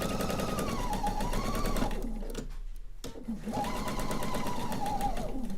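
A sewing machine stitches a quilt seam in a steady, close, rapid run, pauses for about a second, then resumes the same even hum.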